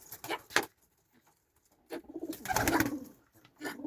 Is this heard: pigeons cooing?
yes